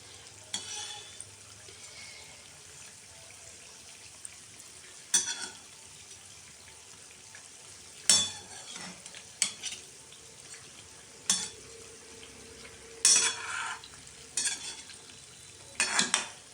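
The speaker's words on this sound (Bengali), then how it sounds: "ওটা ভাজা হচ্ছে। ওটা একটুখানি তেলটা বেশি মানে গরম হয়ে গেছিলো, যার জন্য একটু বেশি লাল হয়েছে।" Thekua pitha, a sweet fried snack made with cane jaggery, sizzles softly in hot oil in a home kitchen, with intermittent louder scrapes and clinks of a utensil stirring and turning the pieces in the pan.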